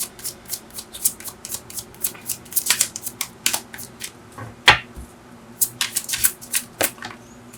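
Tarot cards shuffled by hand, up close, in a quick run of crisp riffling and slapping bursts with short pauses between them.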